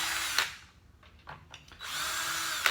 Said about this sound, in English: I got my Torx on a little drill here, make it a lot faster